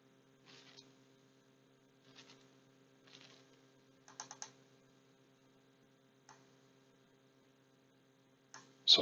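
Short bursts of computer keyboard typing, a few keystrokes at a time separated by pauses, over a steady electrical hum.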